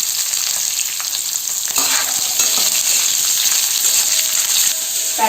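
Garlic and onion frying in oil in a pan for onion kachori, giving a loud, close, continuous sizzle and hiss, with occasional stirring scrapes and no talking.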